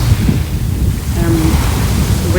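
Steady wind and surf wash over Ringstead Beach on the South West Coast Path, a continuous close roar of breaking waves and gusts buffeting the microphone, with no voices.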